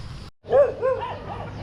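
Dogs yelp and bark in a few short bursts, fairly close, over a low steady background hum.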